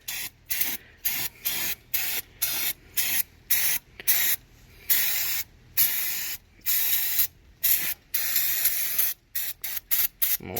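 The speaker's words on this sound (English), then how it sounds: "little low in this can for brake cleaner" An aerosol can of brake cleaner sprays in repeated short bursts, a close, sharp hiss cutting on and off with gaps between, during work on a truck's interior plastic trim.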